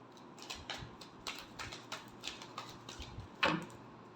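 Tarot cards being shuffled, a run of soft regular riffling snaps about every quarter second, ending in a sharper louder slap, close by with no talking.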